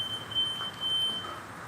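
A screen printing flash dryer gives a steady high-pitched electronic beep in a few long tones with brief breaks, over a constant mechanical hum.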